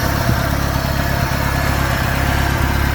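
A 1989 Shelby Daytona, rusty and running on old fuel, idles with a steady low, loud rumbling pulse, close by and continuous with no talk.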